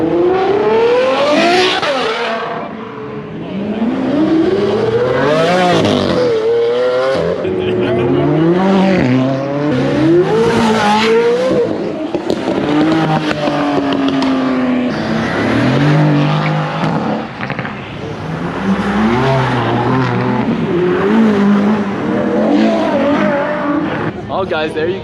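A Lamborghini Huracan STO accelerates hard at a supercar meet, its engine revving loud and rising in sweeping pitch runs, with other cars passing and crowd voices mixed in throughout.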